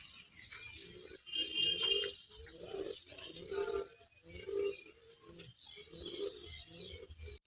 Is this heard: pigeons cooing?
yes